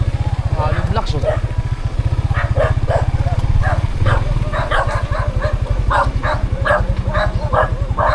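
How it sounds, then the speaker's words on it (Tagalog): Many dogs bark in repeated overlapping yaps, some near and some farther off, over a constant low motorcycle engine drone that runs the whole way through. "Ang daming aso."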